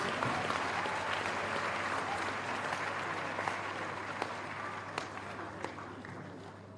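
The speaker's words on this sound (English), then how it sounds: "shall we have another round of applause for the new PhD graduates?" Applause for new PhD graduates at a university convocation ceremony in a hall, a broad steady patter of many hands that fades slightly over the seconds, with a low hum underneath and murmuring voices mixed in.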